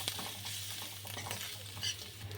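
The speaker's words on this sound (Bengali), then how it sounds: "এবার এতে এক চা চামচ আদা বাটা দিয়ে দিচ্ছি একটা চামচ হলুদ গুঁড়ো দিয়ে এটা একটুখানি কষিয়ে নিচ্ছি" Ginger paste and ground turmeric sizzling as they're stirred in a pan for Bengali moong dal, a soft, steady fry with faint spoon scrapes and a low hum underneath.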